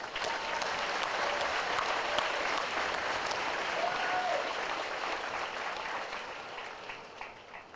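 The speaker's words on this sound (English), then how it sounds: "Please give yourselves a round of applause." Sustained applause from a large audience at a U.S. Army Basic Combat Training graduation ceremony, a dense steady roar of clapping that holds throughout and eases slightly toward the end, with faint whistles and cheers mixed in.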